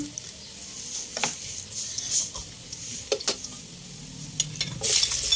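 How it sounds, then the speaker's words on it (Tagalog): Garlic sautéing in a pan for pinakbet with crab makes a soft sizzle with scattered scrapes and clatters of stirring, close by, with no talk. "Ayan, naggisa na ako ng bawang."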